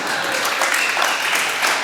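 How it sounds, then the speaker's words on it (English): Audience at a sports hall of fame induction ceremony breaks into sustained applause, dense steady clapping filling the hall at even loudness throughout. "that's a good place for applause"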